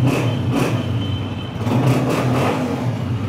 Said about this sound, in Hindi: अपनी हर बाइक का बड़े फख्र से साउंड सुनाते हैं मुर्तज़ा, ताकि इंजन की कंडीशन का भी किसी हद तक आइडिया हो सके।